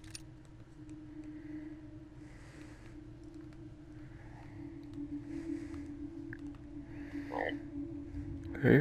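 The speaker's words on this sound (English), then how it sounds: "Hey, frog." A frog croaking in a horror video game, faint low croaks repeating at intervals over a steady ambient drone, with a louder croak near the end and no talking.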